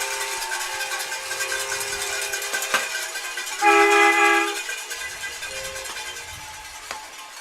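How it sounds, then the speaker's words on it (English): Homemade noisemakers built from DeWalt drills blare a train-horn-like chord at a high school football game, sustained tones over crowd noise, swelling loudest for about a second midway before fading back. "I'm seeing homemade DeWalt drills turned into train engines."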